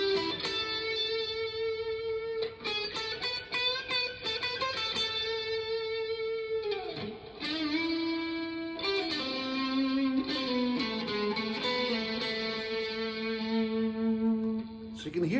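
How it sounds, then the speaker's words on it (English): Electric guitar run through distortion, echo, reverb and chorus effects plays a sustained, bending melody riff, with long singing notes and quick runs, loud and alone. "And here's the melody riff."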